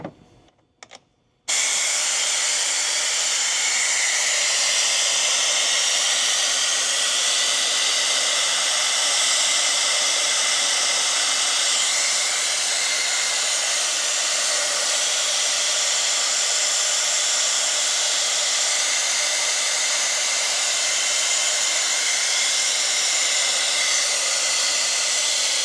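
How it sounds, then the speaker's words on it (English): A vacuum bleeder drawing old brake fluid from a supercharged Acura NSX gives a steady, loud, unbroken airy hiss after a brief quiet start with a few faint clicks. "we're going to use our vacuum bleeder to pull all the old fluid out."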